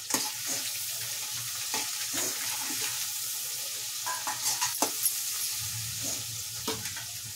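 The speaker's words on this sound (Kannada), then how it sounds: "ಇವಾಗ ಚೆನ್ನಾಗಿ ಫ್ರೈ ಆಗಲಿ" Garlic, onion and turmeric masala frying in a pan for garlic rice, a soft steady sizzle broken by repeated scraping stirs of a spatula, close and quiet with no talking.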